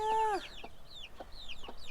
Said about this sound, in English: I got Mama Hen over here with her babies that are now a month old